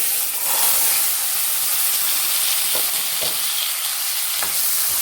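Green peas and ground masala paste sautéing in hot oil for a paneer gravy, a steady loud sizzle and hiss with occasional stirring scrapes, close and continuous.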